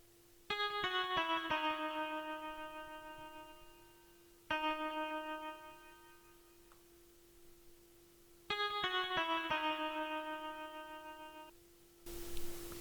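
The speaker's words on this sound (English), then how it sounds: "I then decided to add a tremolo guitar from the stock plugins from FL Studio, and I think the name of this preset is Stretch Trem" Stretch Trem, a stock tremolo guitar preset in FL Studio, plays strummed chords in three bursts, each ringing with shimmering pulsing decay and long sustained tones between the attacks.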